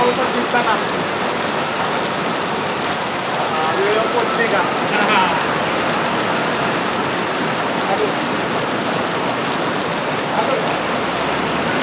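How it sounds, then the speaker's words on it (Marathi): Heavy unseasonal rain pours down in Pune in a steady, dense hiss of countless drops striking surfaces, continuous and loud throughout. "पुणे शहरात आणि उपनगरामध्ये जोरदार पाऊस झाल्याची ही दृश्य आपण पाहतो"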